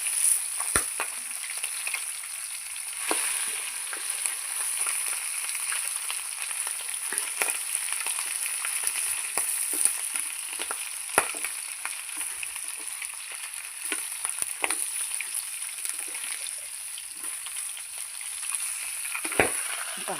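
Fish heads frying in a pan of hot oil give a steady close sizzle, broken by frequent sharp pops and crackles scattered throughout.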